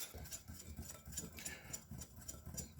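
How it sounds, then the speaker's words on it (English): Flour, baking powder and salt whisked together in a bowl for a cake made from scratch, giving soft, quick, repetitive scraping ticks at a steady rhythm, close but quiet. "whisk this"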